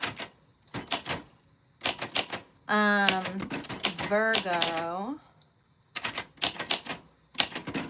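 Keys of a vintage typewriter struck in quick clattering bursts, close and crisp, separated by short pauses, with a person talking through the middle stretch.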